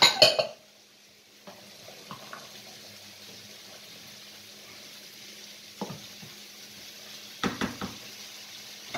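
Thai curry ingredients fry in a pan, a soft, steady low sizzle after a brief clatter at the start, with occasional faint utensil knocks.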